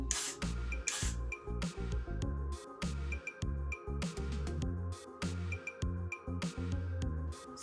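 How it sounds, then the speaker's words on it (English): Got2be hair spray is sprayed over the hairline of a braided lace front wig in short, close, repeated hissing bursts, with background music running underneath. "we're gonna take a Got2be spray, and you're just gonna spray all over the hairline"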